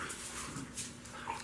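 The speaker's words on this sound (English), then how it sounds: "Don't mind my dogs." Two young dogs whimpering and yipping indoors in short, high, uneven cries over a steady background hum, close by and moderately loud.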